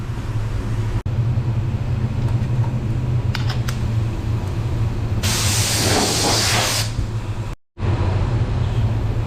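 A spray gun at 30 psi lays down a clear coat, giving a loud rushing hiss for a couple of seconds over a steady background drone from nearby equipment.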